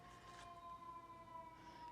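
Emergency vehicle sirens wail outside, a steady rising and falling tone that is faint and distant and heard indoors, with no voices over it.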